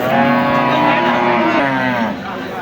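Cattle low loudly and close by while being unloaded from a truck at a cattle market, a long sustained moo that carries on for a couple of seconds before fading slightly.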